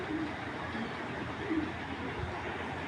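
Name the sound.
black chila pigeon cooing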